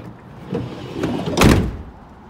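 Manual passenger-side sliding door on a Ford Transit Trail high-roof extended AWD van being rolled shut, a short rumbling slide ending in a solid latching thump, close and loud.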